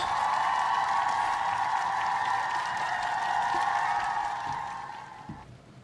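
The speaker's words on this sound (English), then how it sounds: "can we get a round of applause for our contestants?" Audience claps for show contestants in a sustained, fairly loud round of applause that tapers off toward the end, with no voices over it.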